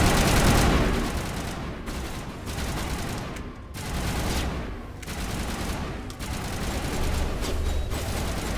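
Sustained rapid gunfire from a firefight against turrets in the video game Mass Effect, loud and continuous with dense overlapping bursts and a few brief gaps.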